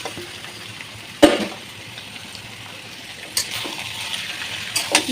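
Mutton being fried with chopped onions in hot oil in a pan gives a soft, steady sizzle with a couple of louder spatters and stirring clatters, close by and with no talking.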